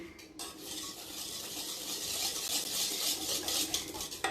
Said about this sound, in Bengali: এবার নাড়বো এটা দিয়ে